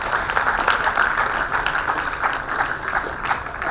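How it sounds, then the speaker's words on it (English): Conference audience at a fintech conclave claps together, a dense, steady round of applause from a hall full of people, moderately loud with slight swells, continuing to the end. "Let us clap for the SPA once."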